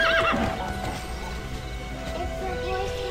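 A horse in a video game gives a short, high, wavering whinny at the start, then fades to a quieter background of game sounds.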